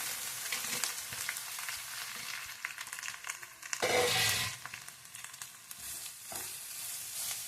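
Amla juice goes into hot ghee over a low flame for amla laddu, giving a soft, steady sizzle with stirring, and a louder hissing surge partway through before it settles back to a gentle fry.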